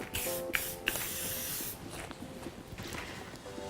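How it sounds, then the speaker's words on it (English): Several short hissing bursts from an aerosol spray can, close by, with clicks between sprays and a steady background hiss. "Fix with spray."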